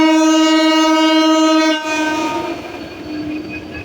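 A loud, sustained train horn blares for about two seconds, then gives way to the rumble and clatter of an intercity express train departing Paturia Junction station in the rain.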